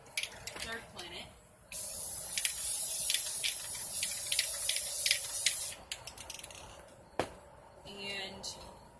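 Aerosol spray paint hisses in a steady burst of several seconds as a bottom coat goes onto a model planet, framed by quieter short sprays and faint handling noises.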